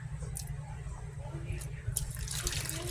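Hot water being poured into a bowl of flour mixture for fry bread, a steady watery trickle and splash running throughout, with faint knocking in the background.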